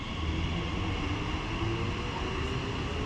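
A TfL Rail passenger train service to Reading pulls away from a Thames Valley station, a loud, steady rumbling roar with a sustained whine, heard close with no talking.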